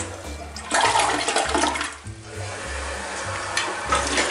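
A dual-flush toilet in a hotel bathroom flushing, with a loud close rush of water that swirls steadily and then drains for several seconds, heard alone.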